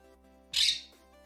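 A single bird squawks loudly for about half a second, a harsh burst that stands clearly above a faint, steady background hum.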